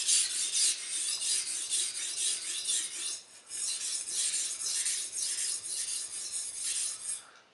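Chef's knife being sharpened, continuous bright grinding strokes of steel on a stone, rhythmic and close, with one short break midway and no talking.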